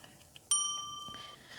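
A notification bell ding rings once, bright and clean, its metallic tone lingering and fading over about a second against a quiet background.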